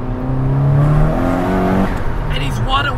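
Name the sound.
90s JDM car engine revving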